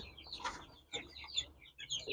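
A hen gives a few soft, short clucks close by in an otherwise quiet setting.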